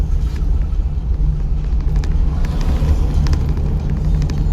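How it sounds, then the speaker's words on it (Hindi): A car's engine hums in a steady, loud, low rumble during a driving lesson as the clutch is eased up and the engine is given gas. No one speaks. "धीरे धीरे क्लच उठा दो, रेस देना शुरू कर दो।"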